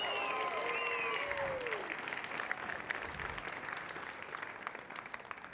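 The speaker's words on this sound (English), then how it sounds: "let's give one last round of applause for all our sponsors" Sustained audience applause fills a hall at a pitch competition event, steady clapping from a large crowd with a few voices and high tones under it at the start.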